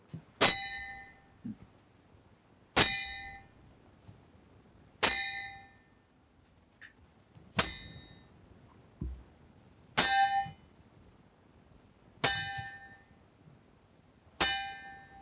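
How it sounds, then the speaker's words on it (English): A glass tumbler is tapped seven times at steady intervals of about two seconds, each bright ringing clang decaying slowly into silence, close and clear with no talk. "Now, at the same time, while tapping the glass, touch the edge of the glass."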